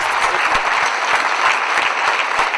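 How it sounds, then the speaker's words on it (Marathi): Sustained, loud applause from a theatre audience in Pune welcoming a Marathi stand-up comedian from Vidarbha onto the stage, steady dense clapping throughout with no voices over it. "जोरदार टाळ्या झालं पाहिजे जोरदार टाळा"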